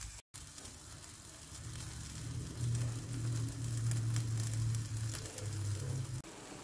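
Whole chicken grilling on a Moroccan stovetop grill with a steady sizzling and crackling hiss, close and continuous, with a faint low hum underneath.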